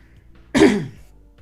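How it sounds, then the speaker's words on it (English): A single short, rough cough bursts out in otherwise quiet surroundings, close and fairly loud. "Sorry guys, I had a cough then."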